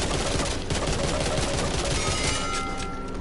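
Rapid pistol fire in Back 4 Blood, a dense, continuous stream of close, loud shots with no pauses, layered over busy game noise.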